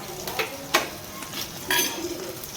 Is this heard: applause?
no